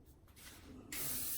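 An aerosol spray hisses onto a wet lace wig, a steady close burst starting partway through and running to the end, after quieter rustling.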